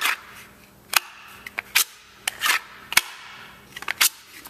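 A Kydex holster snaps onto and off a Glock 17 pistol, producing a series of crisp, sharp plastic clicks at irregular intervals, close and clear with little else around them.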